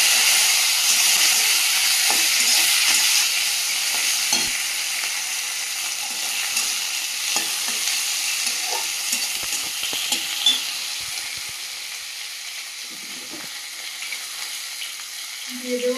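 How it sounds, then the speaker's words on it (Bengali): Whole cumin, bay leaf, chopped onion, green chili and chopped tomato sizzle in hot oil in a pan just used for frying cauliflower; a dense, steady frying hiss with occasional stirring scrapes, loud at first and gradually softening. "তেলের মধ্যে দিয়ে দেবো গোটা জিরে, তেজপাতা, কুচিয়ে রাখা পেঁয়াজ, কাঁচা লঙ্কা, টমেটো কুচি"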